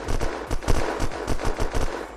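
Rapid automatic gunfire from the video game Unturned, a dense rattling string of close, loud shots in a fast, steady rhythm.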